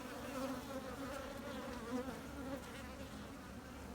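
Honey bees buzzing around a swarm hive at an apiary on a hot, muggy day, a steady dense droning hum of many insects close by, continuous and unbroken with no voices.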